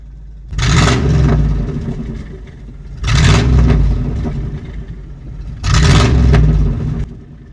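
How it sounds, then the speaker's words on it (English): A 1999 Chevy Silverado 1500 Z71 4x4 pickup's engine revved three times from idle, each a loud, roaring burst lasting about a second or two before settling back to a low rumble. "I'm gonna rev this real quick for you."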